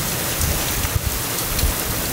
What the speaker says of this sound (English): it's still raining. It hasn't stopped for probably more than a few hours.